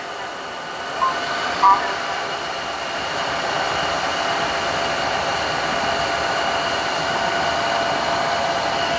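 Tineco ONE S5 wet dry vacuum switched to max mode, a steady loud whooshing motor hum that holds from start to finish after a couple of brief clicks near the start.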